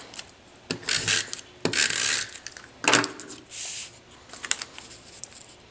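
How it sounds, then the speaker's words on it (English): A snail adhesive tape runner pressed and rolled across the back of Designer Series patterned paper, giving several close, dry clicking and rasping strokes with short pauses between them. "And then snail adhesive on the back of my Designer Series paper."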